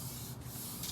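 Close hand sanding of wooden furniture, with sandpaper giving a continuous, quiet rasping rub that stays even throughout, without voices.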